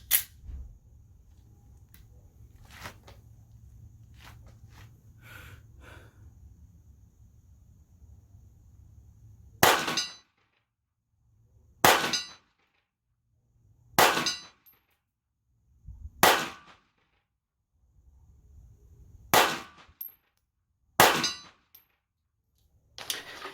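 Kimber Micro 380 pistol shots at steel targets: six or seven sharp, loud reports spaced a couple of seconds apart, each followed by a bright metallic ring, after a stretch of quieter handling noise and a low hum.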